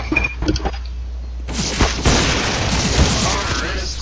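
Gunfire in the Counter-Strike video game: a few sharp shots early, then a dense, loud burst of rapid firing and explosive booms that continues steadily, with no talk over it.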